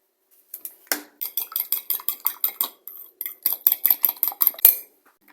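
A spoon stirring sugar and cinnamon briskly in a bowl, clinking against the sides in a quick, steady rhythm of about twenty taps, close and clear, with no voices.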